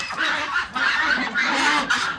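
A flock of farm ducks on a big Cambodian duck farm quacks and honks together, a steady overlapping din of many nearby birds with no voices over it.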